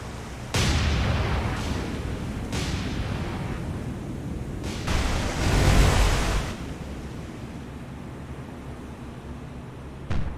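Naval gunfire from a destroyer in the World War II naval game War on the Sea, during the Guadalcanal campaign: a steady roar of booming broadband blasts, with a louder swelling burst near the middle.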